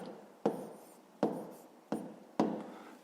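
A pen writing numbers on paper, four distinct scratchy strokes at roughly even intervals, close and quiet, with no talk.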